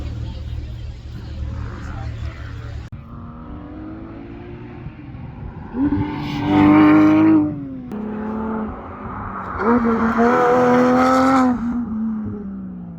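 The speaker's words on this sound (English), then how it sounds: "Time for all the Porsches to run." Porsche race cars run on a track, engines revving hard as two cars rise and pass near the microphone in strong bursts, with steady engine drone and wind noise between them.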